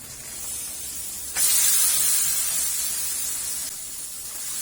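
Marinated pork kasim hits hot oil with tomato paste in a pot and sizzles, a loud sudden hiss that rises sharply and then settles into a steady frying crackle.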